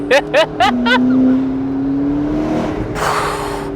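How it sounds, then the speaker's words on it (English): Several quick chirpy bursts, then a McLaren's turbocharged engine pulls hard with a rising whine, ending in a rushing whoosh of air. "The turbochargers suck in the air, you hear everything."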